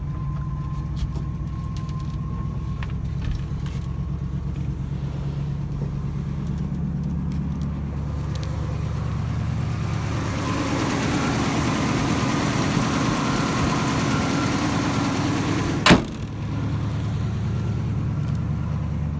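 A 1963 Ford F-250 with a 292 Y-Block V8 idles steadily after a choked cold start, a low, even rumble that thickens and grows slightly louder partway through, with one sharp click near the end.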